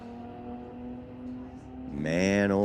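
Toyota Supra drag car at Mission Raceway Park street-legal drags, a steady engine drone that swells into a loud, rising rev near the end.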